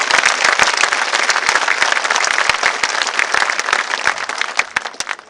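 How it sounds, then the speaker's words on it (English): A large audience applauds at a high school commencement ceremony, steady dense clapping filling the hall throughout with sharper individual claps standing out, gradually easing toward the end. "If we could just give them a round of applause for making this happen here tonight."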